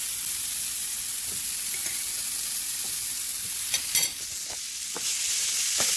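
Sweet potatoes stir-fry in a hot pan with a steady, loud sizzle and hiss, while a few soft scrapes and clicks of stirring break through near the end.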